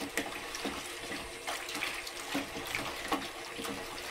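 Water pours and splashes into a bucket holding an animal hide with salt, a moderate, uneven gurgling stream with small sloshes and drips, close by.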